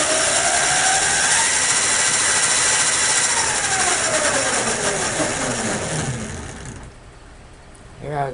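An electric racing go-kart prototype with a 60V motor upgrade whines loudly at full throttle, its pitch sweeping upward as it winds to high RPM, then dropping off and fading near the end.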